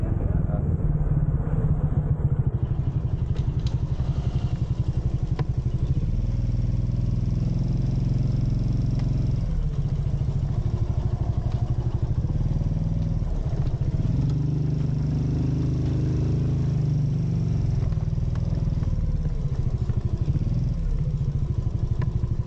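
A motorcycle engine drones steadily and loud throughout a ride to a breakfast spot in Nyarutarama, with wind rumble and clatter mixed in and voices talking over it.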